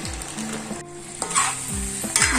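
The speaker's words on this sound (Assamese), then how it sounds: "এতিয়া মাংস আৰু মছলাটো ধুনীয়াকৈ ভজা হৈছে" Goat meat frying with coriander, cumin and red chili powder in a pan, a loud close sizzle broken by repeated scraping stirs and clanks of the spatula against the metal.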